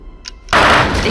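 Gunfire in the video game UFO: Aftermath, a loud, sudden dense burst of shots that stays sustained after a quiet lead-in with a faint blip.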